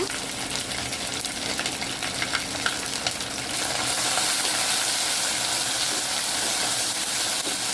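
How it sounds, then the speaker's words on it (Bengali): Ginger garlic paste and onions fry in a pan for a beef tripe dish, a steady loud sizzle with stirring scrapes, intensifying partway through, and no talking. "ভালোভাবে মশলাটি ভেজে নেব"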